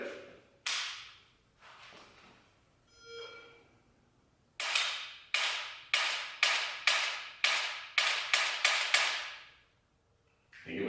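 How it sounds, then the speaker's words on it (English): Ten sharp dry-fire trigger clicks from an AR15 fitted with a Mantis Blackbeard training system, fired in a quick, fairly even string after a few scattered handling taps, close and loud with no talking. "You have 20 seconds to take 10 shots."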